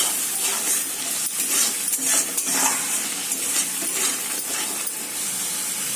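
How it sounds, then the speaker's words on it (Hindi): Masala for an Odisha-style chicken and potato curry stirred and fried in a pan, with repeated scraping and clinking of a utensil over a steady sizzle, close and fairly loud, no talking. "तापर को लुण एबे हमें मसला को भले से कषी दबा"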